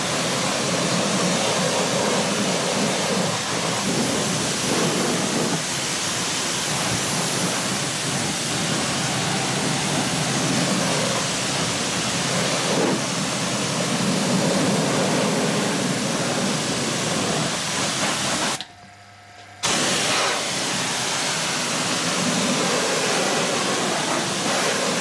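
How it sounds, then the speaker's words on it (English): Pressure-washer water spray rinsing out a car's wheel arch with the wheel removed during winter prep, a loud steady hiss of water that runs continuously and cuts out briefly near the end before resuming. "I gave the arch a thorough rinse out to release the freshly freed filth"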